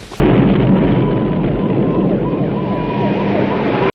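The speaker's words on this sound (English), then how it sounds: "Nice explosion. That'll get their attention." A movie explosion from Rambo: First Blood erupts suddenly, then a loud, dense rumble and debris roar sustains for several seconds with a faint siren-like tone running through it.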